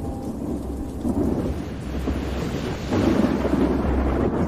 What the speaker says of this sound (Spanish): Estaba lloviendo desde cada rincón posible del cielo.